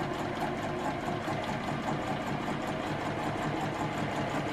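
A sewing machine runs steadily, stitching quilt pieces along a quarter-inch seam. Its rapid even whir and mechanical chatter are continuous, loud and close, with no voices over it.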